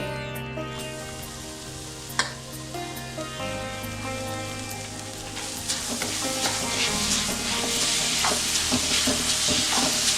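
Grated coconut cooks in bubbling jaggery syrup in a pan, a close steady sizzle and crackle that swells slightly louder toward the end, with a single sharp clink early on.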